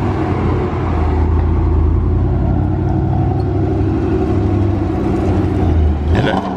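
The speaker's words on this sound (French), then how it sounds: "On a la Porsche Panamera Mistral Gemballa qui arrive." A Porsche Panamera Mistral Gemballa pulls up in Monaco street traffic, its loud, continuous engine rumble holding steady throughout with a brief rising rev near the end, over a bed of background chatter.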